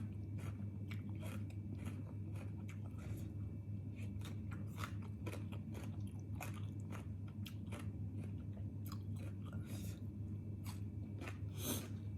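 Crisp fresh vegetables eaten with Thai papaya salad, a rapid series of close crunchy bites and chewing over a steady low hum, no talking.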